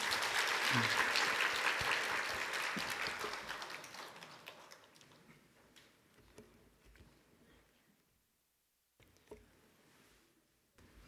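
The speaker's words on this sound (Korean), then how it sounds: "우리 박수로 환영하도록 하겠습니다." A church congregation at a Sunday worship service applauds to welcome a guest lecturer, a dense, loud wash of clapping that gradually thins and fades into near silence, followed by a few faint scattered sounds.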